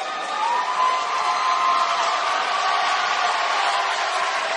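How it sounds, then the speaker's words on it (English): Basketball crowd in Nixon Hall during a college game between Bellarmine and Indy, a steady, dense roar of fans cheering and shouting throughout, fairly loud and continuous with no distinct breaks. "Coaching staff and the bench pumping up the crowd. A little bit of noise going here in Nixon Hall."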